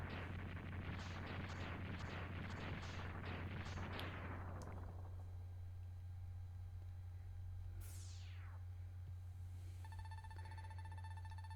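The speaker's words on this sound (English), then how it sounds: "What was that explosion?" A Mega Man X3 video game explosion plays as a rapid series of crackling blasts that fade away, followed by a falling synthetic whoosh and electronic tones over a steady low hum, with no voices.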